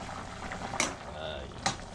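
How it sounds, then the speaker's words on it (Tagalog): A pot of vegetable soup with carrots simmers, a faint steady bubbling and hiss with a couple of brief louder pops, under quiet background sound. "Ayun na, kumukulo-kulo na."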